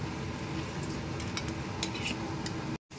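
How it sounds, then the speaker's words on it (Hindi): Mutton coated in masala paste fries in a pressure cooker, giving a steady close sizzle with scattered clinks of a spoon against the metal pot, broken by a brief dropout near the end. "अब हम इसके साथ इसको अच्छे से भूनेंगे"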